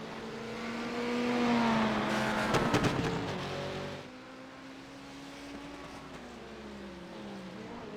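A Ford race car engine in a GT3 sports car racing game, revving up and down through gears with a rising and falling whine, peaking loudly mid-clip with rattling bursts, then easing to a lower drone.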